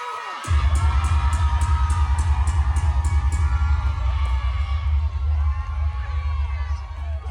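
A large crowd at a performance cheers, whoops and yells. The roar is loud and sustained, starting abruptly after a brief moment of near silence, with scattered shouts rising out of it.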